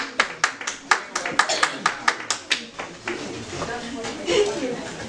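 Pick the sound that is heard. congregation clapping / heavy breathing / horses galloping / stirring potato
congregation clapping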